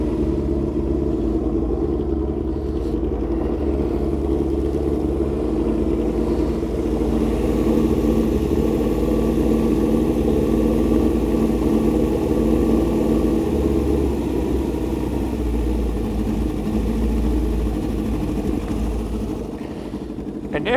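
A Honda CB750 cafe racer motorcycle engine idles steadily for about twenty seconds, a low even rumble that holds nearly constant in level with only slight variation, recorded close with no talking.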